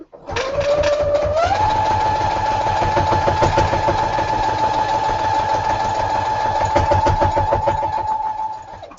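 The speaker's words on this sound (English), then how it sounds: "Now let's sew it in the few remaining minutes we have here." A sewing machine stitches quilt units together, its motor revving up in the first second and then holding a fast, even mechanical whir with rapid needle chatter, loud and close and running nearly unbroken for the whole stretch.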